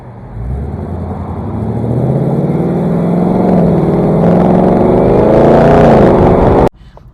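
2018-2019 Ford Mustang GT with a 10-speed automatic accelerating hard, a loud close engine roar climbing steadily in pitch for several seconds before cutting off abruptly at a quick upshift.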